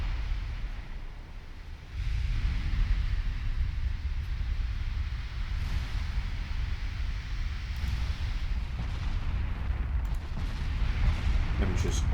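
Naval gunfire and shell hits in Ultimate Admiral Dreadnoughts rumble as a steady, heavy low roar of distant battleship salvos, loudening after the first couple of seconds, with a voice briefly talking over the barrage.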